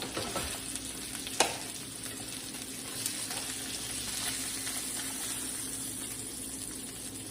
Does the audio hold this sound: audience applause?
no